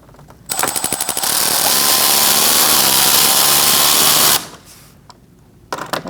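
A power tool drives license plate bracket screws on a 2021-2025 Jeep Grand Cherokee L, giving a few quick pulses and then one loud, steady whine for about three seconds before it stops.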